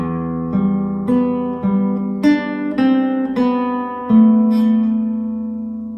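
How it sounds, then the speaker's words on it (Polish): A fingerpicked guitar chord on open strings is played as separate plucked notes, one after another, each ringing on into the next. The last note is allowed to sustain and fade. The guitar is close and there is no talking. "cały chwyt brzmi tak, puste struny."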